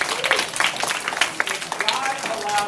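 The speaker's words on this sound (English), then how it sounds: "applause." Audience applause at a Christian school chapel, a burst of clapping from a gathered crowd that runs steadily under and alongside a speaking voice.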